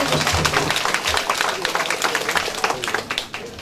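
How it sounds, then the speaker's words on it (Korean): An audience claps at a multicultural family award ceremony in Muan County, a steady busy patter of hands with scattered individual claps standing out, close and continuous throughout. "박수 한번"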